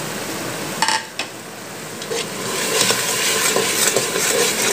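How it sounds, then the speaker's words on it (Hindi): Goat trotters frying in a pan with salt, chili and turmeric, giving a steady close sizzle with a few clinks of a utensil against the pan. "और इसको अच्छे तरीके से भून लेंगे।"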